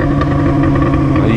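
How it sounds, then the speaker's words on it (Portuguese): A Yamaha XJ motorcycle engine rumbles loudly and steadily through its exhaust, a close, continuous low roar with no talking over it. "O ronco dessa moto é o ronco"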